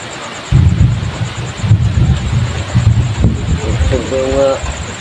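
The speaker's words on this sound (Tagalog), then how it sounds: "Kusog yung dalugdog yung mga kaidol." Loud, rolling thunder rumbles low and steady through a heavy rainstorm, with a brief voice near the end.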